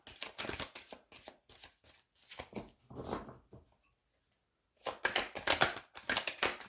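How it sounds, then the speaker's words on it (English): Tarot cards are shuffled up close in quick riffling bursts of crisp flicking, with a short pause in the middle before another flurry. "I shuffle on camera, guys."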